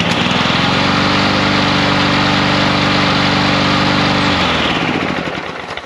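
A repaired small-engine lawnmower runs steadily and loud with a strong harmonic drone, then cuts off near the end, the sound dropping and fading. No talking.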